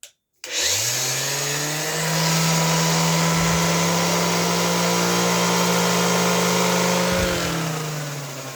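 An old Ryobi power tool spins up after a brief silence and runs at a steady, loud motor whine with a buzzing hum, dipping slightly near the end as it winds down.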